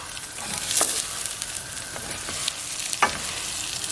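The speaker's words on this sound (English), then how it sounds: "So you can see our rice is beginning to get toasted." Rice toasting in a hot pan for arroz con pollo gives a steady close sizzle, with a few louder scraping stirs of a utensil against the pan.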